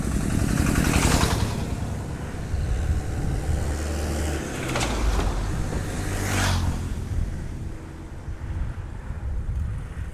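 A motorcycle ridden without a helmet overtakes aggressively on a highway beside a bhutbhuti vehicle, heard as continuous road and wind rumble with a few brief rushing swells as vehicles pass.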